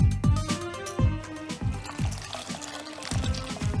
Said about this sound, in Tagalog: Prepare po tayo ng tubig at lagyan din ng asin.